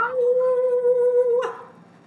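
A human voice imitates a werewolf howl during a tabletop board game session: one sustained, steady wail lasting over a second that ends in a brief breathy break, then quiet.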